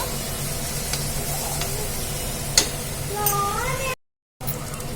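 Fenugreek leaves fry in a pan for a tomato chutney, giving a soft continuous sizzle with an occasional stir and light tick, close by, while a voice talks over it and the sound briefly drops out near the end.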